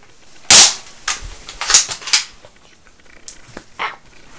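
An airsoft M4 rifle firing BBs outdoors, with several sharp, snappy shots spaced irregularly, one loud crack followed by lighter pops.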